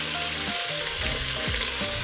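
Seasoned steak sears hard in a hot pan, a loud, dense, steady sizzle and crackle with popping fat, close up and alone throughout.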